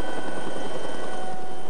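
A Canadian Forces helicopter idles at a landing zone, its turbine whine and rotor wash forming a loud, close, continuous roar with no voices.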